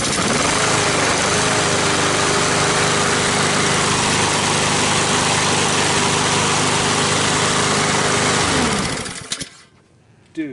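A Honda-engined lawn mower runs loudly and steadily close by, its engine droning evenly for about nine seconds before cutting out abruptly.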